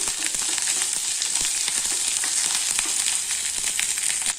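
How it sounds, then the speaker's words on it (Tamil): Onion and garlic sautéing in oil for coriander chutney make a continuous close sizzle dotted with crackles and soft stirring knocks, with no voices. "இப்போ வெங்காயம் போட்டுக்கலாங்க வெங்காயம் பூண்டு இதனால் கொஞ்சம் நேரம் வதக்கிக்கலாம்"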